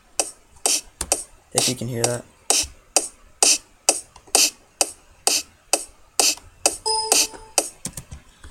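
Basic FL Studio house loop with a kick drum and a snare on the second and fourth beats, a steady, evenly spaced electronic drum pattern, with a voice briefly talking partway through.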